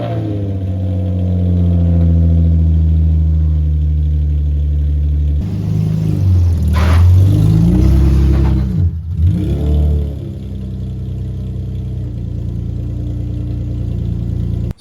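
An Infiniti G35 sedan's engine idles steadily up close, then revs and whirs as the car is driven into a garage, before settling back to a loud, even idle.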